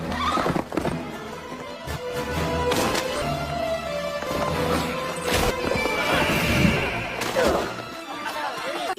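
Horses in a film scene of Vikings and a Muslim rider, whinnying loudly while hooves clip-clop during the ride, with thuds and bustle around them and a voice talking over parts of it.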